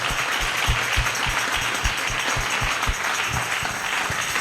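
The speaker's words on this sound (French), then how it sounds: "motivez-moi par les acclamations" A church congregation applauds and cheers for the preacher during a Sunday sermon, a dense, steady wash of crowd noise with repeated low thumps throughout.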